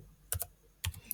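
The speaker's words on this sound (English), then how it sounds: "So I'm typing reversal trading setup." Quiet, close keystrokes on a computer keyboard come in two quick pairs about half a second apart, with no talking.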